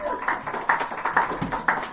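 Audience clapping at a small house concert welcoming a performer, with distinct, uneven hand claps from a modest group, close and fairly loud, pulsing irregularly throughout.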